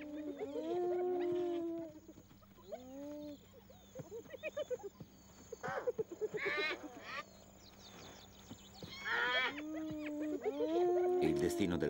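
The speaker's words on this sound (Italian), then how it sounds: "Le iene sono animali tenaci." Spotted hyenas in the Serengeti give whooping, yipping and whining calls, close and loud, coming in repeated bursts with short gaps between them.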